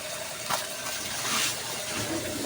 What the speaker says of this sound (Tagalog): Ayan, dinidrain niya yung tubig kanina. Ayan, tatapon siya ng tubig.